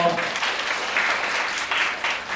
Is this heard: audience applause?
yes